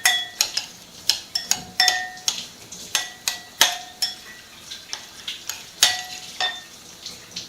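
Utensils clatter and scrape against a bowl while a cucumber salad is mixed, a steady run of sharp, close clicks and knocks at an uneven rhythm with no talking.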